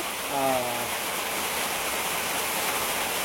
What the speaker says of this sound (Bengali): কই দেখি বৃষ্টি পড়ছে এখন।